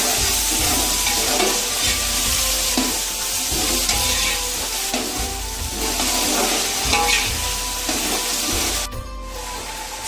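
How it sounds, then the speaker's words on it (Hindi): Ginger, garlic and green chili paste fries loudly in a pot of hot oil for a beef yakhni pulao, with a steady dense sizzle and occasional stirring scrapes throughout, no talking. "इसमें 4 चम्मच अदरक लहसुन और हरी मिर्च का पेस्ट जाएगा"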